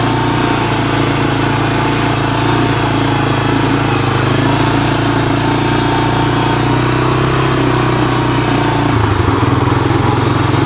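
A 1985 Honda TRX250 ATV engine idles steadily and loudly up close, running a bit rich from a carburetor that isn't quite right, with a slight shift in tone near the end.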